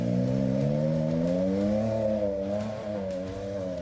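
Can-Am Ryker three-wheeler with a 900cc inline three-cylinder engine and continuously variable transmission, revving loudly and close with a rising then easing engine note, heard alone without talk.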